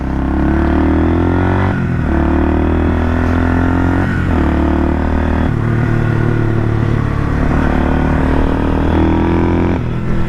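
A 1978 Kawasaki KL250 motorcycle with a newly installed carburetor rides at speed, its loud single-cylinder engine droning steadily with repeated gear shifts and rising and falling revs, heard close throughout.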